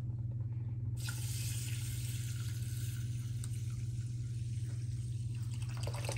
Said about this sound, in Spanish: 2 tazas de agua. Ahora vamos a ponerlas aquí.